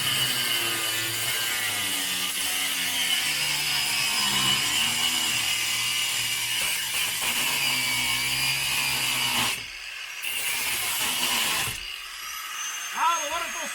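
Plastic is cut during a radio install in a van, making a continuous rough grinding, sawing noise that stays loud and close and stops briefly twice near the end, with voices talking over it.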